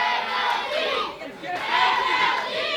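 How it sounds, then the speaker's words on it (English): A wrestling crowd at a Slammasters show shouts and chants together to rally a struggling wrestler, a loud, sustained roar that dips briefly and then swells again. "The crowd trying to help him out a little bit here to try and get him going"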